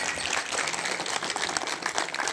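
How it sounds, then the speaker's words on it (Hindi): An audience at a Hindi-speaking gathering honoring a religious storyteller claps steadily together, a dense continuous patter of many hands at moderate loudness with no break. "अपने व्यासी के लिए जोरदार ताली बजाएंगे सभी"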